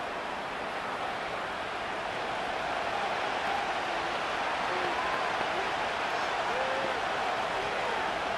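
Steady crowd roar in a Madden NFL 25 simulated Cowboys vs. Vikings football game as a 3rd down approaches, a broad continuous wash of stadium noise with no distinct peaks, no talk in the clip.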